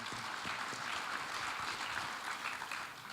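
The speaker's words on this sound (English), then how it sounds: "So give yourselves a round of applause for supporting soccer in the Northwest." Audience applause at an evening soccer fundraiser event, a steady, moderately soft wash of clapping from a seated crowd lasting a few seconds.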